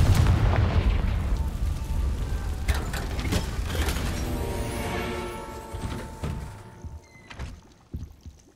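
The Confringo fire spell from the game Hogwarts Legacy goes off as a booming blast with rumbling debris, followed by a ringing magical tone and a few scattered clunks as the sound fades toward near silence.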